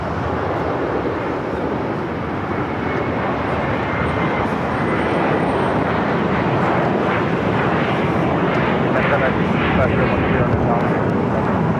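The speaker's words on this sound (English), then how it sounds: "That's Turkish Flight 9 arriving on the north side." A Turkish Airlines airliner arriving at LAX on the north side gives a loud, sustained jet roar that stays steady and close throughout.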